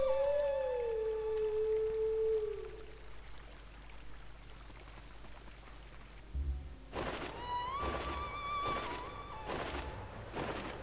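At the start comes a single clear wolf howl from the Zelda: Twilight Princess HD video game that slides downward and fades. After a soft thud, a bright melodic jingle plays in short pulses. No voices are heard.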